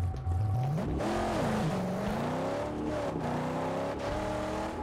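A car engine in the video game Mad Max revs and pulls hard while driving, a loud, close, continuous growl rising and falling in pitch with gear changes and acceleration.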